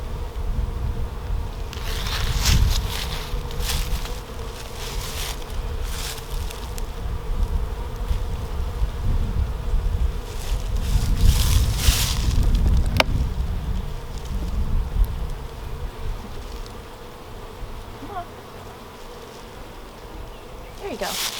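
Honey bees buzz steadily throughout an early-season beehive inspection in 2022, a dense swarm drone that swells and fades as frames are handled, with a few brief bumps and clicks.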